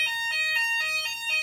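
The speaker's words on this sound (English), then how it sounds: "the fire alarm is going off and I don't know what to do" A building fire alarm sounds loud and close, a shrill electronic tone pulsing in quick regular beeps with no voices over it.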